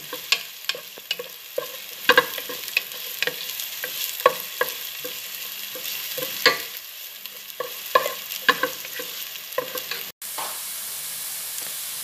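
Onions frying in a pan before chicken is added for chicken cooked in Sprite, a continuous close sizzle broken by frequent clinking stirs of a utensil against the pan.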